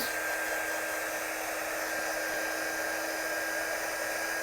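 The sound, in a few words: dryer blowing on a freshly inked stamp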